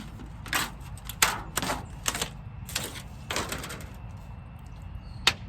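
Several sharp snipping cuts of old scissors through aluminum at irregular intervals, close and crisp, over a low steady background rumble.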